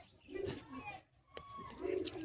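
Cooing from a loft of high-flying pigeons for sale in Bagnan, Howrah, with soft throaty calls sounding close by under low background murmur and brief chirps.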